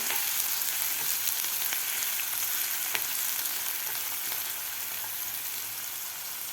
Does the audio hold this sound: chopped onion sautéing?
yes